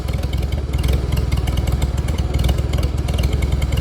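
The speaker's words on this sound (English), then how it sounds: "I'm gonna speed her up." A Farmall Super A tractor engine runs at a steady, rapid chugging beat with metallic clatter. It sounds close and fairly loud, with no talking over it.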